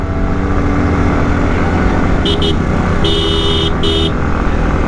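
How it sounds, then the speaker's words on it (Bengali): Loud, steady motorcycle engine in second gear climbing a steep hill on the road to Sajek Valley, droning continuously and close up, with a few short horn toots partway through. "এখন দুই গিয়ারে উঠতেছি উপরে"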